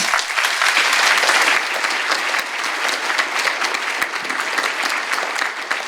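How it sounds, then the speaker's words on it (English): Conference audience applauding speakers at the end of a permitting session at a wind energy event, a dense, steady clapping from a large crowd throughout, loud and close. "I would like to please ask you to give a round of applause to our speakers."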